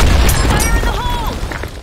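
A grenade explodes in a multiplayer shooter game, a loud deep boom that rumbles through the low end and fades slowly over the battle noise.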